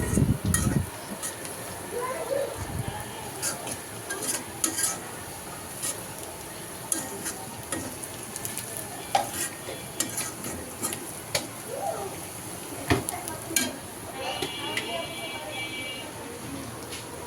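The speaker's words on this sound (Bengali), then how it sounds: "আর ডিমের পেঁয়াজটাও ভেজে নিচ্ছি।" Onions frying in a pan for egg korma, a continuous sizzle broken by repeated scraping and clacking stirs, close by, with a person talking over it at times.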